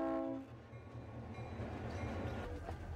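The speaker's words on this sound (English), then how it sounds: "a passenger train." A passenger train opens with a brief blast of its horn, then rumbles past steadily with a low rolling rattle of wheels on track, moderately distant.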